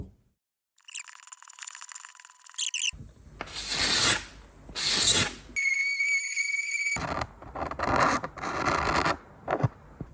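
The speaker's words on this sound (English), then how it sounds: "That is pre-sanding, that's post-sanding." Rasping, scratchy sanding strokes on restored 1982 Suzuki RM 250 motorcycle parts, coming in uneven bursts of rubbing and filing, close and fairly loud with brief pauses between passes.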